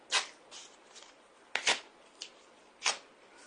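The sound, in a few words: tearing a paper expulsion notice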